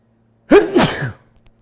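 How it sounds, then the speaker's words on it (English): A single loud, close sneeze, a sharp intake followed by a forceful burst, with silence before and after. "excuse me, I'm about to sneeze"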